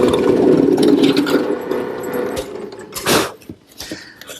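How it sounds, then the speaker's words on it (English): A router fitted with a half-inch radius roundover bit shapes the edges of redwood, its motor droning steadily up close before easing off into a few short bursts and cuts. "A 1/2-inch radius roundover bit takes care of the edges."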